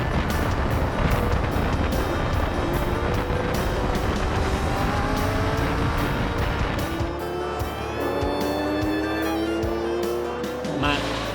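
An Alfa Romeo Tipo 33.3 racing car from the Autodelta works team of the 1960s drives at a classic race meeting at Spa. The loud engine note rises and falls through gear changes and stays prominent under narration.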